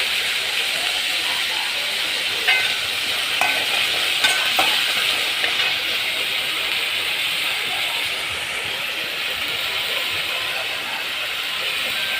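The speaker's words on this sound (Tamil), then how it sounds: "தக்காளி போட்டு நல்லா வதக்கிக்கோங்க" Tomatoes sauté in a pan with salt and turmeric, a loud, continuous frying hiss with a few scraping stir clicks partway through, close and unbroken.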